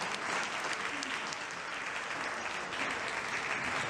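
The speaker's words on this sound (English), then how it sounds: "Give me a hand of applause." An audience at a community forum about fighting Ebola applauds, with a steady, moderately faint wash of many hands clapping throughout the short burst.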